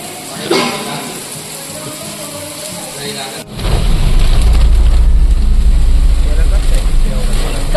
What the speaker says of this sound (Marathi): जोरात पाऊस येतो समोरचं सुद्धा काही दिसत नाही